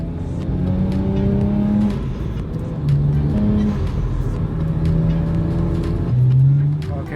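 A BMW 335i with the N54 turbocharged engine and freshly replaced injectors accelerates through several gears. The engine note climbs, drops at each shift, and climbs again, loud and close from inside the car.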